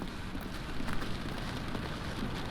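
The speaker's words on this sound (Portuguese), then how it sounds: "Tá claro, mas tá chovendo." Steady rain falls in the video game The Stanley Parable, a dense, even hiss of drops that holds at a constant moderate level throughout, with no voices over it.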